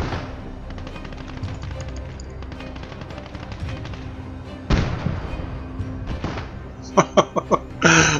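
Dense automatic gunfire and scattered explosions in the World War II game Call to Arms: Gates of Hell during a co-op infantry battle, a steady roar of shots with louder bursts and heavy thuds toward the end.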